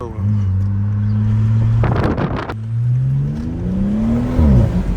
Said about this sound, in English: For some reason, my turbo been so much louder now.